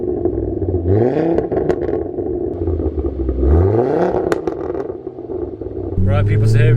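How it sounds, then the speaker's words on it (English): A Ford Focus RS MK2 five-cylinder engine idles, then rises in rev sweeps that climb and fall, close and loud, with a voice talking over it. "We're just letting it idle for a bit, and then we are going to give it some revs."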